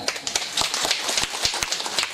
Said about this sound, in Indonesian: Tapi untuk mereka kita beri tepuk tangan